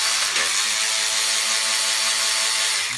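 A bit driver ratchet clicks steadily as it backs bolts out of a throttle cable bracket on an LSX-swapped Canyon, a close, continuous fine ratcheting with no talk.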